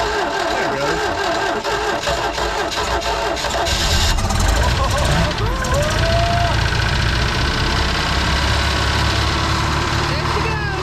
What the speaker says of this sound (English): Now listen, the engine noise always sounds louder on camera.